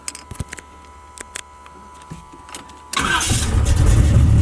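A Chevrolet Box Chevy engine, one that recently had a fuel pump problem, cranks with the key and fires up after a few seconds of quiet clicks, then settles into a loud, steady running rumble up close.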